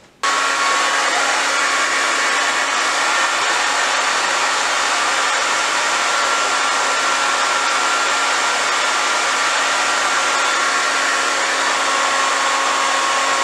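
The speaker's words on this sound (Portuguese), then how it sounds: "principalmente a parte do secador" A hair dryer runs steadily at full power while drying hair treated with coconut styling cream, a loud, continuous close-up whoosh with a faint tonal whine, unbroken for over thirteen seconds with no talk.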